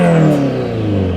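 Subaru WRX engine revving close by, loud exhaust rumble with one rev that peaks early and then slowly winds down to a settled idle drone, with no talking.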